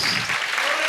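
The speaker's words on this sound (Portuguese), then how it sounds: "Aplauda o Senhor, queridos." A church congregation applauding during an anniversary evening of Christian hymns, a brief burst of dense, steady clapping filling the room.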